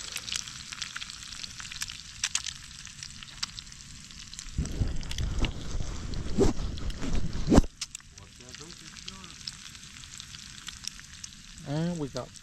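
Bacon fries in a pan at a riverside campsite, a steady crackling sizzle that swells louder midway before easing back, while people talk nearby.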